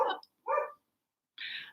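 A dog barks two sharp times close up, then gives a higher, thinner yip after a short pause, with no voices.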